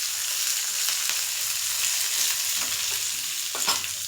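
Curry leaves fry in hot oil in a pan with a dense, loud crackling sizzle throughout, broken by a few brief spoon scrapes.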